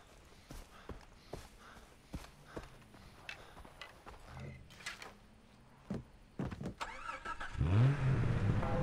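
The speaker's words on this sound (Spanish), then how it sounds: "Sí, tengo un carro por acá." Car in the video game Far Cry 3, with engine hum and clunks under game noise, then a louder rising engine roar near the end as the vehicle starts up.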